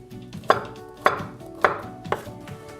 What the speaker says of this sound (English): all I'm going to do is cut the corn into rough bite-sized pieces at an angle